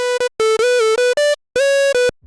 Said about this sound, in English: Tube is really nice and just an analog type sound.